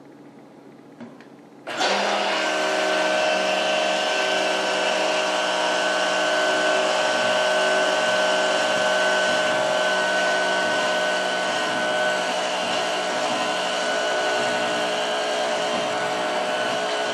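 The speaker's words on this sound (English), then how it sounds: "So I'm going to be mixing my soap with my little blender here." A loud, steady motorized whirring starts abruptly after a brief quiet moment and runs continuously, a small blender churning thick liquid soap mixture.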